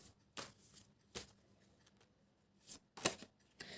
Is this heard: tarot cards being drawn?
yes